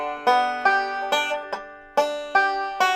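Banjo rolls picking the chords of a song with unclean beginner fretting, a series of plucked chord strums about every half second, close and alone with no talk.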